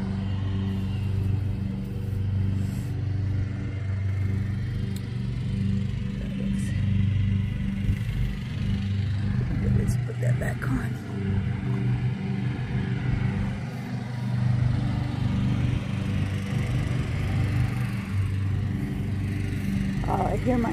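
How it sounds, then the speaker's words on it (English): A steady motor drones throughout, like a lawn mower running at a distance, with a low rumble under faint background sounds. "I hear my husband's lawnmower going too."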